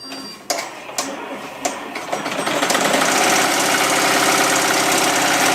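Embroidery machine restarting a design, a few sharp clicks and taps before the needle settles into a fast, loud, continuous mechanical chatter of stitching.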